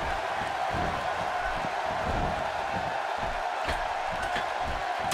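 A sold-out arena crowd cheers at a wrestling match in the WWE 2K16 video game, a steady, dense roar of voices with scattered whoops and no breaks.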